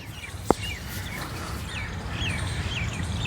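Faint bird chirps repeat in the distance in a park in the morning, over a steady outdoor hum, with one brief sharp knock near the start.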